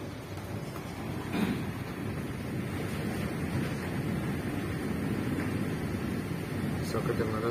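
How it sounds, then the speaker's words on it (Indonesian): Strong wind in a heavy rainstorm over the South China Sea roars steadily across the microphone with sea noise beneath, and a voice speaks faintly under the gusts. "Kencang sekali anginnya guys"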